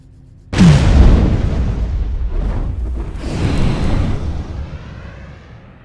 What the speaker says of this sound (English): They just set a breaching charge, by the way